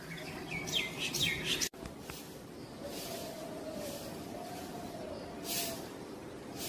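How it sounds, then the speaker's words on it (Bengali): Myna birds chirp in an outdoor neighbourhood with rooftops and banana trees, a few bright calls from nearby in the first seconds and another brief burst later, over a steady low background rumble. "একটা শালিক"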